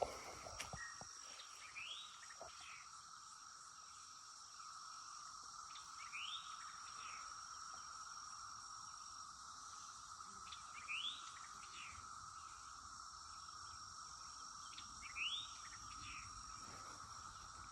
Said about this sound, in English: Those cicadas make a wild noise.